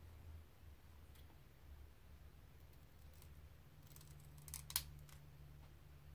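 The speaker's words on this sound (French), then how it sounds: "Et du coup je vais venir découper un peu" Scissors snipping paper for an art journal page, a few faint, sparse cuts over quiet room hum, ending in one sharper snip near the end, with no talking.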